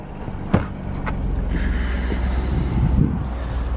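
BMW E36 engine idling steadily after a start, a continuous low rumble with a couple of brief clicks and a short louder burst midway, some wind noise over it, no talking.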